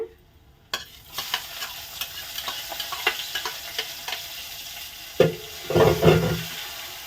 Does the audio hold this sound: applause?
no